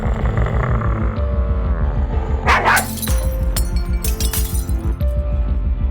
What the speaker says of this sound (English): He let out a bark so loud the room echoed, the glassware shattered, and Kevin held his ears in fear.